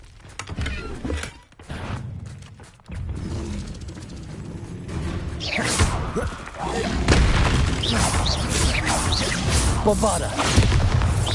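A Bombarda blasting spell explodes in Hogwarts Legacy, with a series of deep booms and thuds layered over whooshing and clanking game mechanisms, building louder in the second half.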